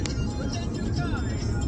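A car being driven on a highway near the Atal Setu toll, a steady low road rumble and engine drone from inside the cabin, under faint talk.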